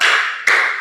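Two sharp hand claps land in quick succession, close and bright, each ringing briefly before fading.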